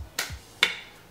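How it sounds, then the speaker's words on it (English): Two sharp hand claps, well apart, with hands coated in Cavalier hair clay; each clap is crisp and close, followed by a brief ringing tail in a quiet room. "Let's do a clap test."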